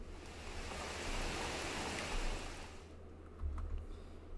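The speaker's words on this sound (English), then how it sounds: "We have some rain effects" Steady rain hisses as a dense wash of noise, then cuts off abruptly, leaving a low rumble and faint ticks.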